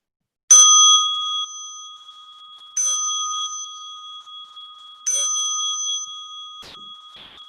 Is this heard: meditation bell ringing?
yes